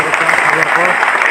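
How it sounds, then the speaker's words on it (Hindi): A crowd at a farmers' rally in Haryana claps loudly, a dense burst of applause close by, with a voice faintly audible underneath. "जोरदार ताली बजा"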